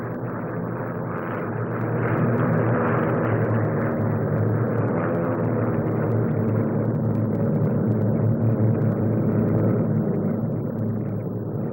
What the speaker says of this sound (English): Biggest of the helicopters, the now familiar Bristol 173 twin-rotor machine